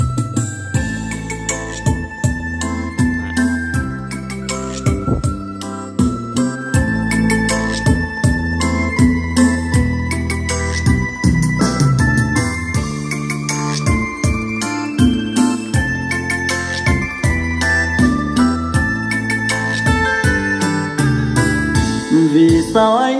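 Vietnamese bolero (nhạc vàng) song playing through a pair of Onkyo X7A speakers, a full, steady music mix with dense rhythmic accompaniment at constant loudness throughout.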